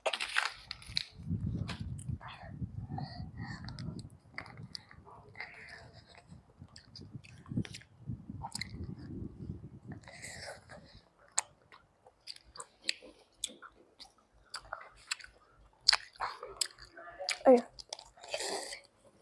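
Close, loud crunchy chewing of crunchy squid in rhythmic bursts, with soft whispered Thai talk breaking in between bites.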